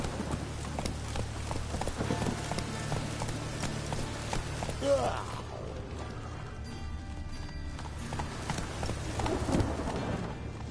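Roach the horse galloping in The Witcher 3, with steady rhythmic hoofbeats drumming throughout over game ambience while voices talk.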